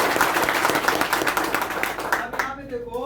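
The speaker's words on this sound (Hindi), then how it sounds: "ताली तो होना चाहिए ना" Audience clapping at a network marketing seminar, brisk applause from a crowd that tapers off as a voice begins speaking near the end.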